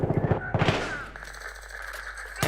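Gunfire from a FAMAS assault rifle in Battlefield 3: a quick burst of several sharp shots in the first second, another short burst, then a fading echoing tail with faint ambient noise.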